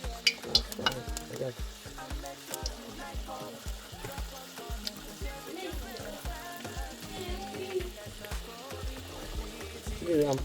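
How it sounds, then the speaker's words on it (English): Nigerian puff puff dough sizzles and crackles steadily in hot frying oil, a dense close bubbling hiss with small pops continuing throughout. "So now we're going to start frying it"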